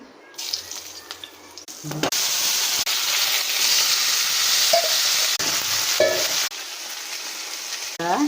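Sambar cooks in a pan with a loud, steady sizzle of frying. A few stirring knocks and clinks break in, and the bubbling hiss briefly fades between bursts.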